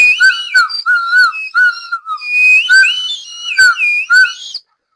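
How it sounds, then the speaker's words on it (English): Shrill plastic penny whistle tooting a quick series of bright, wavering notes, close and loud, with short breaks between phrases. "like the old-fashioned penny whistles"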